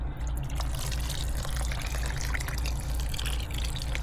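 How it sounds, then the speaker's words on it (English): Silver dye liquid pours steadily over 400 grams of yarn, a continuous close splashing wash of liquid that runs the full length without pause or talk. "Pour it in the center or all over?"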